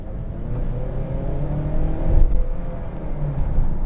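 A 2-liter turbocharged engine in a Ford Edge SEL accelerates from inside the cabin, a low steady drone that swells in a surge midway and keeps rising, with no talk.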